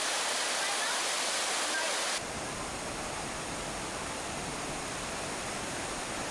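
A waterfall at Watkins Glen State Park roars as a steady, dense rush of falling water, loud and continuous, with the tone shifting slightly partway through.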